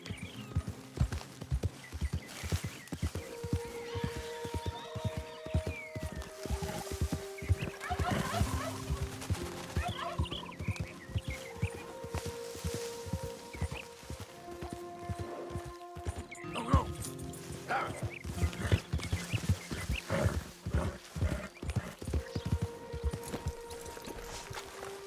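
A horse runs with clip-clopping hooves in Red Dead Redemption 2, rhythmic and close, with occasional whinnies and game music tones layered over the hoofbeats.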